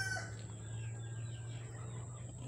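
Chickens at a roadside coop near a Bool Junction street give a faint crow and a few scattered clucks early on, then a steady low hum of outdoor background noise continues.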